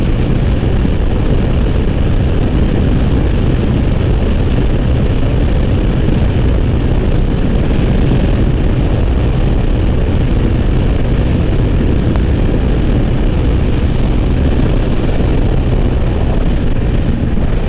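A Yamaha YBZ-DX motorcycle, a 2021 stock bike, roars flat out at top speed, its engine held at high revs in a loud, unbroken drone mixed with heavy wind rush.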